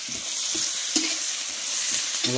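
Rohu fish frying in a pan, a steady bright sizzle broken by several short scraping stirs and clinks of a utensil, close and fairly loud.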